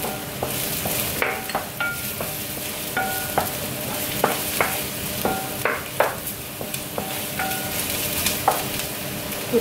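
Milkfish for sinigang na bangus sizzles steadily in a hot pan, with repeated sharp clinks and scrapes of a utensil stirring close up throughout.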